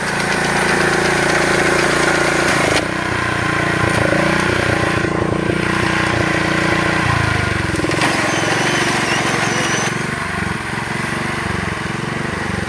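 A farm reaper machine engine drones steadily and loudly throughout, its rumbling pitch shifting a few times as it runs.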